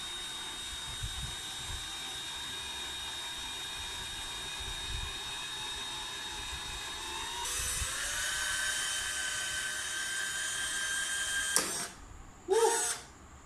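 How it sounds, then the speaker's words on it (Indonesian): An electric drill bores a hole through the front signal bracket area of a Honda RS150R motorcycle, a steady high whine that rises in pitch partway through, then stops briefly and restarts in short bursts near the end, with no talk. "Dan kita drill lubang."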